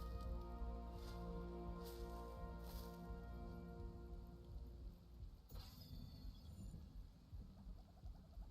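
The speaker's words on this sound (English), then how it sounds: "Oh, it's raining." Steady rain falls in the video game Ark Survival Ascended, a faint, continuous hiss of drops layered over a low ambient game drone, with a few soft rushing swells.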